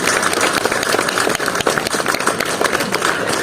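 Loud, lively applause from a crowd at a Relay for Life charity event in a town, dense and continuous clapping with a brief dip partway through and no talking.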